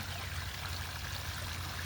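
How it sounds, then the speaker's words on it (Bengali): A small waterfall and stream outdoors, a faint steady rush of flowing water with no breaks and no voices. "তো এই ঝর্ণাটা দেখানোর জন্যই"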